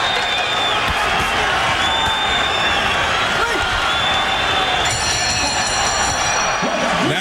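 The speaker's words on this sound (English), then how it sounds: "The crowd gives a good standing ovation." A boxing crowd rises in a standing ovation at the end of the Lennox Lewis versus Ray Mercer fight, a loud, steady roar of cheering and applause filling the whole stretch, with a commentator's voice faintly underneath.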